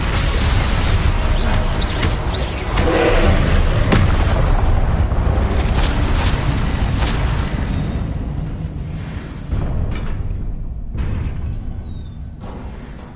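Fiery Confringo spell explosions in Hogwarts Legacy, a long, loud, dense roar of blasts and rumbling debris that slowly thins out toward the end.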